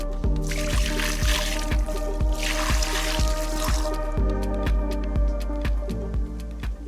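Water poured over a freshly landed carp of about 10 kg during a fishing session, a splashing wash that comes in two bursts over a steady rhythmic mechanical ticking.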